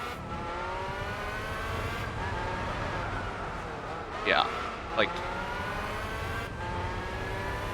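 A race car in Gran Turismo 4 Spec II revs and accelerates, its engine whine rising steadily under ongoing conversation, with a couple of brief sharp squeals.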